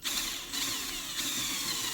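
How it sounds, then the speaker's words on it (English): A drill bit cutting through the metal cap over a carburetor fuel screw, a close, steady whirring grind with a few brief dips in pitch. "So you want to be careful as you drill through this."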